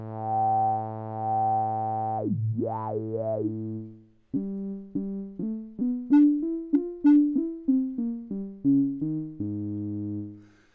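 A synthesizer saw-wave tone in the Drambo groovebox app on iOS holds, then its pitch bends and wobbles; a run of plucked synth notes follows, brightening and dulling as the filter cutoff and resonance shift.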